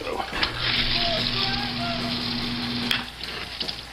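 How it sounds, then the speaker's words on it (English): Water sprays from a sump pump pipe and splatters steadily against a wall in a broad hiss, with a low mechanical hum underneath, close by. "all that water sprays on the wall and then comes back and sprays on this"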